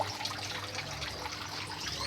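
Water from an aquaponics spray bar splashes steadily into a school fish tank, a continuous close trickling and spattering with no talk.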